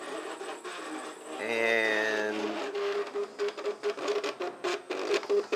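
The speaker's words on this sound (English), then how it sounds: "printing the next part for the next printer. So, give me an idea of the difference in the noise." A Gen3 Makerbot or Gen6 Prusa Mendel RepRap 3D printer runs a calibration part, giving quiet stepper-motor whirs and a rising whine, then a train of rapid rhythmic pulses. A brief spoken word is heard.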